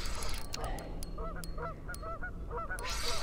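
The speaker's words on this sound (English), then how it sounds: "Out here in the morning, you can hear the geese going." Geese honk repeatedly in the distance over steady outdoor background noise on a Michigan morning while bass fishing, the calls coming in irregular bursts.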